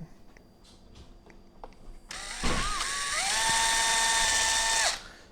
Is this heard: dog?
no